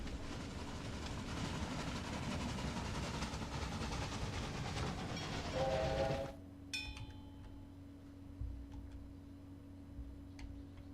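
Trains running along the rails in the video game Railway Empire, a steady rumbling rail clatter that cuts off abruptly partway through, leaving faint ticking and clicks.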